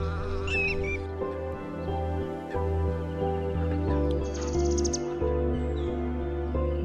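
Wild birds call across the shallow winter wetland floodplains of Keoladeo National Park in Bharatpur, Rajasthan, with scattered chirps and tonal calls over a steady, harmonic background drone.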